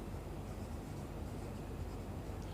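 A pen writing entries into a cash book, with a steady soft scratching of the pen on paper and no voices.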